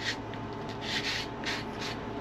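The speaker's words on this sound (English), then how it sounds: "A little bit of sanding with little burrs here and there." Quiet, steady rubbing of sandpaper on a purpleheart ring bowl, with soft rhythmic strokes swelling and fading over a low background hum.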